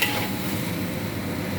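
Asparagus and lean pork slices stir-fried in a pan, giving a dense, steady sizzle with continuous close stirring noise and no voices.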